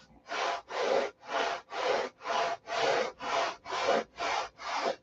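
A SIG Magnum fuse is ground by hand on 36 grit abrasive while being rolled over. Ten even, close rasping strokes repeat at a steady rhythm with brief pauses between them, and no voices are heard.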